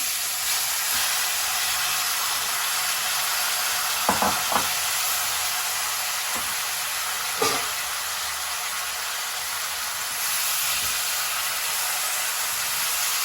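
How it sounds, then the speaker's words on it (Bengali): Chalta (elephant apple) pieces frying in hot oil with bay leaf and chilli, a continuous even sizzle and hiss throughout, broken by a few soft stirring knocks, with no voices. "চাউটাটাকে খুব ভালো করে তেলের মধ্যে ভেজে নিতে হবে"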